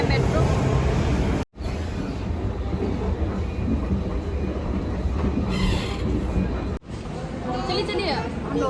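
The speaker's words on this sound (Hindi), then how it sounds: "ये है मेट्रो।" A metro train runs in India, giving a loud, continuous rumble and rolling rail noise with two brief cutoffs. Voices talk faintly under the train noise.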